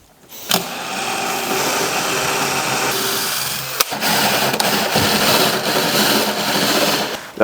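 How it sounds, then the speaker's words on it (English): Power drill boring a 15mm hole in a door for a smart lock fitting, a loud steady whirring grind with a brief pause and restart midway, no talking. "I'm just gonna go 75mm up from this line and drill a new 15mm hole there"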